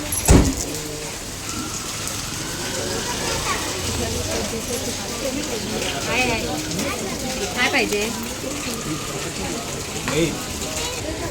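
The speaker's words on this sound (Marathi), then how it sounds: "पाऊस अजून पण पडतोय" Steady rain patters continuously on hard surfaces nearby at a Swami Samarth temple in Nalasopara, with faint voices and bustle mixed into the background.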